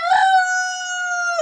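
A young rooster gives a single loud, close crow, one sustained tonal call lasting over a second with a rough onset and a clipped ending, heard alone.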